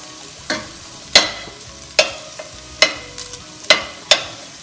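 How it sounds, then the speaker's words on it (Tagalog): Pork liver frying in its own rendered fat in a pan, with roughly six sharp spatula scrapes and stirs at irregular intervals over a soft sizzle, close and clear. "Hayaan muna natin siya na maprito siya doon sa sarili niyang mantika."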